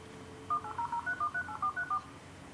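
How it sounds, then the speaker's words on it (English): A 1995 dial-up modem dials a phone number on its own, a quick run of about nine clean touch-tone beeps in even rhythm, moderately faint over a quiet background hum. "It's dialing up all on its own."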